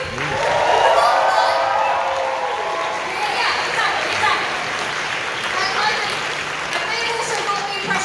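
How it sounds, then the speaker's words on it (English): An audience at the closing ceremony of the Kitacon anime convention gives a round of applause mixed with cheering and crowd voices, peaking early and then settling into a softer, continuing patter. "can we give a big round of applause please to the entire kitacon team who put this together for you?"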